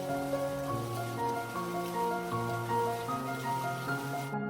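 Steady rain falls without pause for the whole stretch, a continuous wash of patter layered over sustained background musical tones, with no voices.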